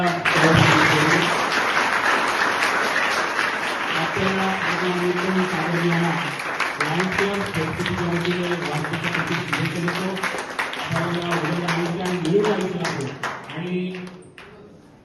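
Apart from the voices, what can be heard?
audience applause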